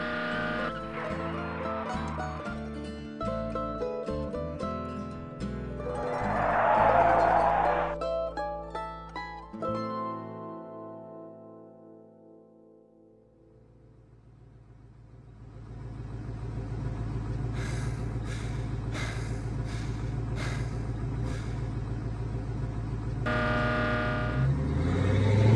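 A truck on a road in a short film, heard as a low rumbling engine that swells and fades, then returns closer and louder with a steady heavy drone amid music-like tonal layers.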